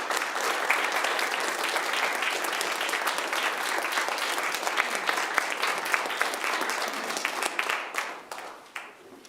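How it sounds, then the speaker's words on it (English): A congregation at a Sunday church service breaks into sustained, dense applause to welcome Wendy, loud and steady for several seconds before tapering off at the end. "Let's welcome Wendy with a round of applause."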